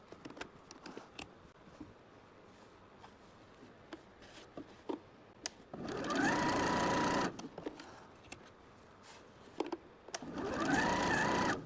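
A sewing machine stitches the folds of a fabric wallet in two steady bursts of a few seconds each, close and loud, between quieter handling clicks and fabric rustles.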